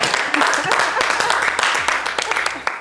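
A studio audience on a variety show applauds a guest, a national handball champion, with lively, close clapping and distinct individual claps over a music bed, while voices call out briefly.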